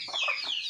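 Chickens on a rural Philippine farm, including a hen with chicks, cluck and chatter in a quick close burst of overlapping calls.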